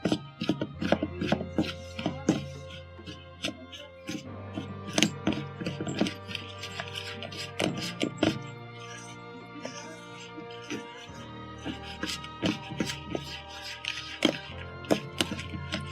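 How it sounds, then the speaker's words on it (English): A wooden spoon works through tomato soup cake batter in a bowl, giving repeated scraping rubs and soft wooden knocks in an uneven rhythm, close and moderately loud throughout. "Now just mix it up with a wooden spoon."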